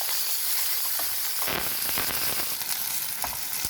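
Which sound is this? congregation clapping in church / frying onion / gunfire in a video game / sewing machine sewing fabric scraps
frying onion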